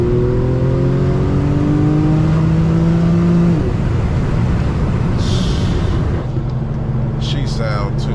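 Infiniti G37 engine revving hard while driving at night, loud rising harmonic tones climbing then dropping off, followed by steady road and engine noise with a voice talking over it.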